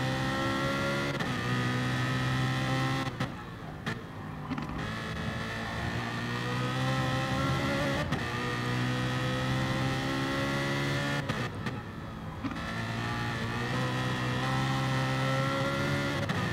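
GT3 race cars, a BMW and an Audi, lap the Catalunya circuit in the video game GT Sport, engines droning loudly and steadily with shifting pitch, brief gear-change dips and cars running close together.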